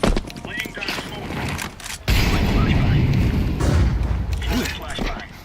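A smoke grenade is thrown during a video game match: a sudden thump, then a loud, steady broadband hiss that keeps going for several seconds over busy game noise.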